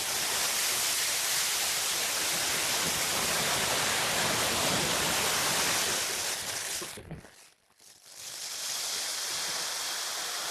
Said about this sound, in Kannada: ಜಲಪಾತ.